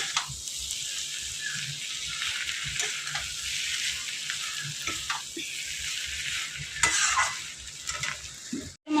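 Greens curry cooking in fish oil is stirred in a pan, a close, steady sizzle with repeated scraping and swishing strokes and a brief clatter near the end.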